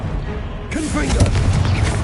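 A Confringo spell blast in Hogwarts Legacy, a sudden fiery burst with a deep boom and crackling tail, heard close under a spoken voice.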